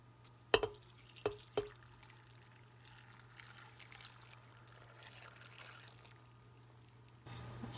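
Water poured into a soup pot while making vegetable soup, a faint steady trickle and splash following a few sharp knocks, with no talk.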